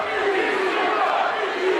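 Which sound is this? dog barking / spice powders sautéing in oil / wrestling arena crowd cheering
wrestling arena crowd cheering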